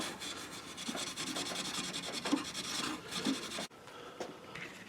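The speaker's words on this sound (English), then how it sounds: "now we're just gonna polish them up with some steel wool." Steel wool rubs over flintlock pistol parts in quick, raspy back-and-forth strokes, close and fairly quiet, before cutting off abruptly near the end.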